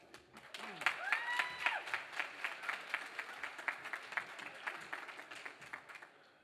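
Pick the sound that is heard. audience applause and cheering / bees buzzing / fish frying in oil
audience applause and cheering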